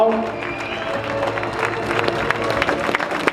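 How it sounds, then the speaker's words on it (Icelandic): An audience rises and claps at a horse-breeding event, with scattered crowd murmur and voices under the building, uneven applause that grows louder toward the end. "Eigum við ekki að standa öll upp aðeins og gefa þeim gott klapp?"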